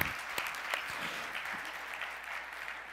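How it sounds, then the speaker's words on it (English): An audience at a technology conference talk applauds steadily, a dense wash of many hands clapping, moderately faint and continuous, with no voices over it. "I think that deserves a round of applause"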